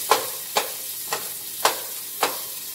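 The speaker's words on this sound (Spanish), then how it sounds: "Para mientras está sofriendo la cebolla" Onion sautés in a frying pan, a soft steady sizzle broken by five evenly spaced scraping strokes of a utensil stirring through the pan, quiet and close with no talk.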